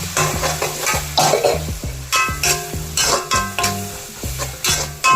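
Crushed ginger, green chili and garlic sizzle and crackle in hot coconut oil while being stirred, with steady frying hiss broken by repeated scraping stirs, close and clear, no voices.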